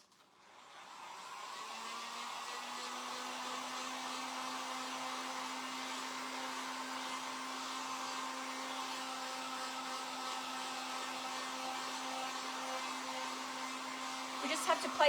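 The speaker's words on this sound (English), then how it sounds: "So I'm going to dry this off with my heat gun." A heat gun drying paint on a thrifted sign blows a steady, even whoosh with a constant motor whine, starting up after a moment and running unbroken and close until a few clicks at the end.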